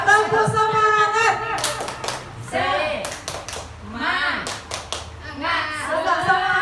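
A group performs the Indonesian rhythmic clapping cheer "tepuk semangat", with short bursts of patterned hand claps separated by voices chanting and talking.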